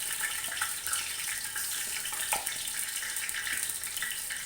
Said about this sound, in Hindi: अब मैंने लिए 4 अदद बड़े साइज़ की प्याज, बारीक काट ली हैं। इनको डालेंगे